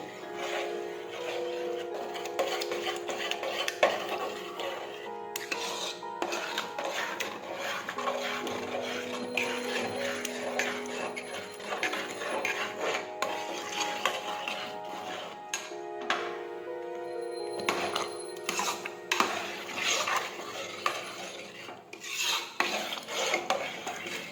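Boiled vegetables for pav bhaji being stirred and turned in a pan, giving a steady scraping, rasping sound of a spatula against the metal that runs continuously with a few louder knocks.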